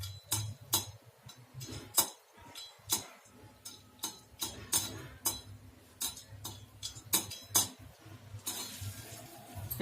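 Black chickpeas dry-roasting in hot sand without oil give off sharp, irregular popping clicks, some single and some in quick bursts, close and fairly loud over a low rumbling background.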